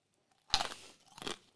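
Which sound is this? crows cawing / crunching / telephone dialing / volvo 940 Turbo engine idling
crunching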